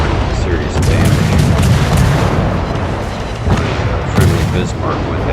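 Rapid-fire naval guns of the USS Kidd, a destroyer, in a naval battle game: dense, continuous booming salvos with heavy low rumble and repeated sharp reports, loud throughout.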